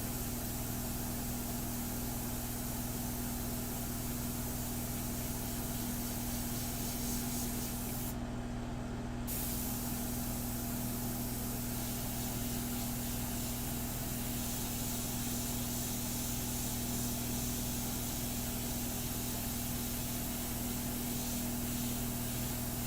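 An airbrush sprays India ink onto a portrait painting, a continuous soft hiss over a low steady compressor hum, briefly cutting out for about a second before resuming, with no speech.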